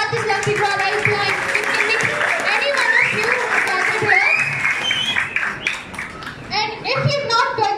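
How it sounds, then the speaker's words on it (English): A shopping-mall crowd gathered for a lucky draw gives a sustained round of applause, with clapping mixed with children's voices and crowd chatter; the dense sound stays loud throughout. "can I have one more last applause here"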